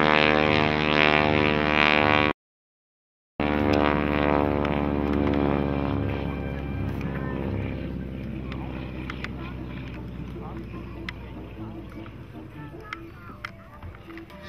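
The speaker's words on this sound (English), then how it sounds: "we'll taxi up here with Chuck on the top wing so Alan can get a nice picture of that." A biplane taxis with a person riding on the top wing, its piston engine and propeller droning loud and harmonic, cutting out briefly, then running on with a shifting pitch and talk underneath.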